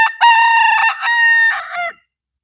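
A rooster crows loudly and close by in a backyard flock kept alongside ducks, one long, strained, multi-part call lasting about two seconds before silence.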